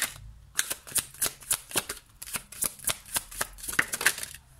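Tarot cards are shuffled and laid out in a series of rapid, crisp flicks and riffles, close and fairly quiet, with no talk over them.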